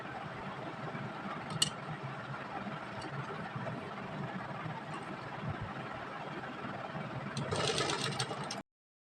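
A sewing machine stitches a neck patch onto the front of a kurti, a steady, fairly faint mechanical hum and whir running continuously without talk.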